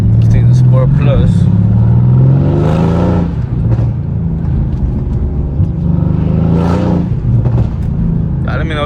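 Twin turbo V8 car with downpipes in Sport Plus mode accelerating hard, a loud deep engine roar rising and falling through two surges, with a voice talking over it.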